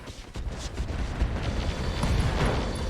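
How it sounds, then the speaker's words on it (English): A chemical ammunition explosion in the RogueTech mech game rolls out as a dense, sustained rumbling blast with crackling debris, loud and continuous for a few seconds without voices. "Chemical ammo explosion."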